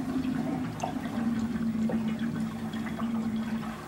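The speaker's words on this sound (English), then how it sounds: "even the most playful water spirals down the drain in a very strict manner" Water swirling down a drain into a whirlpool, a continuous gurgling rush with small splashes and drips, close and steady with no talk.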